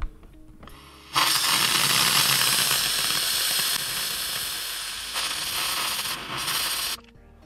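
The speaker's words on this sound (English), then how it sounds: "See, this has to come down even more, so I'm going to steam it even more." Handheld steamer defrosting an iced-up Samsung refrigerator ice maker: a loud, close, continuous hiss of steam starting abruptly, holding steady for several seconds with slight level shifts, then cutting off.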